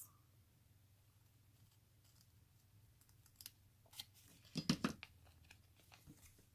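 Scissors cut through planner sticker sheets for a nautical-themed kit, giving a few quiet crisp snips that peak in a short cluster partway through, over a steady low hum with no talking.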